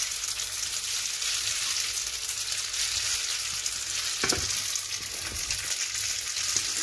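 Spaghetti with garlic, olive oil and chopped parsley sizzles loudly in a frying pan, a dense steady hiss with a few scraping stirs and a sharper clink around the middle, no talking.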